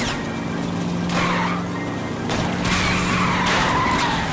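Car tires skid and squeal during a police chase in L.A. Noire, with several drawn-out screeches over a steady engine drone, the squeals rising and overlapping across the chase.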